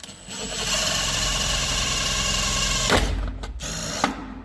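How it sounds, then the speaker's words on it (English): A power drill bores a hole in plastic, whirring steadily at close range for about three seconds, then stuttering and cutting out in short bursts before stopping. "what I will do for you is drill a hole in plastic"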